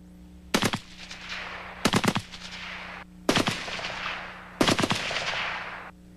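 Four loud, separate automatic rifle gunshots chambered in 7.92mm Kurz, a weapon with a cyclic rate of 500 rounds per minute. Each is a sharp crack followed by a long, rolling echo, spaced about a second apart, with no voices.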